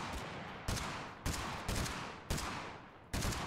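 Gunfire in a shooter video game: five loud, sharp shots fired at irregular intervals of roughly half a second to a second, each cracking close and then trailing off into echoing reverb.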